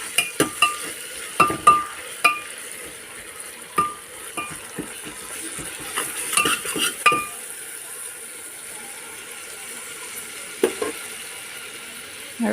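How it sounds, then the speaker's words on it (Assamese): Onions stirred with ginger-garlic paste in a pot for egg biryani, a utensil scraping and clinking against the metal in irregular bursts over a steady background sizzle, with no talking. "আদা নহৰুৰ পেষ্টখিনি দি দিছোঁ আৰু ভালদৰে লৰাই দিছোঁ।"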